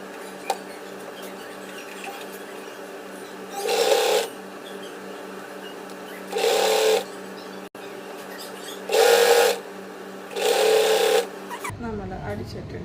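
A sewing machine stitches the sleeve edge of a frock in four short whirring bursts separated by pauses, close and loud against a low steady hum.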